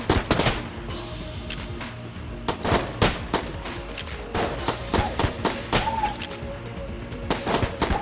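Shotgun blasts from the video game Enter the Gungeon, a run of sharp, loud booming shots at an irregular pace with brief gaps between them, over steady game music and effects.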